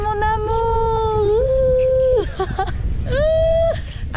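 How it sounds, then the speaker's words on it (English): A dog on a beach in Goa gives long, drawn-out whimpering howls close by. Two sustained cries are split by a short broken yelp. "I'm being attacked by a doggy!"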